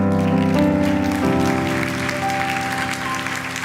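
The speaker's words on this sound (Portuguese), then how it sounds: "Maria, pode aplaudir o Senhor." A church congregation claps steadily and fairly loudly while sustained keyboard or organ chords ring underneath, the applause continuing evenly throughout.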